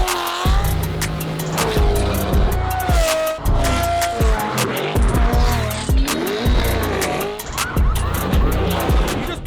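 A car drives through downtown Las Vegas with a loud engine that revs and shifts repeatedly, and tires chirp now and then, close up and continuous.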